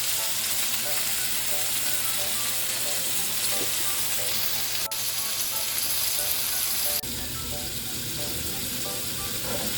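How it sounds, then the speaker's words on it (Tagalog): Shrimp sizzle loudly in a hot pan while they are stirred, with scraping and clattering mixed into a continuous crackle. The sound shifts briefly partway through. "iluluto na natin ang ating shrimp, ang ating hipon."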